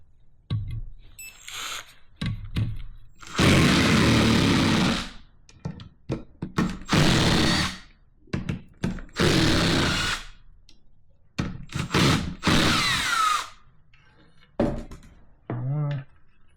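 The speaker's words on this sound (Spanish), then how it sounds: "Vamos con una copa 8 y sacamos eso." Power tool with an 8 mm socket backing out bolts on the alternator of a Ford F-350 7.3 Powerstroke, several loud close whirring bursts separated by clanks, knocks and short pauses.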